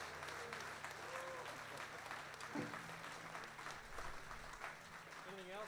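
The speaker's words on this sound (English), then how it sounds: "We're going to give him 2 rounds of applause." Folk festival crowd applauding a touring musician, a dense, even wash of clapping that runs the whole time at moderate level, with some voices and stray tones mixed in.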